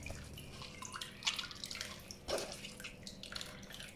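Whey dripping and trickling from homemade chhena cheese as it drains, soft irregular drips and small splashes, faint and close with no talk.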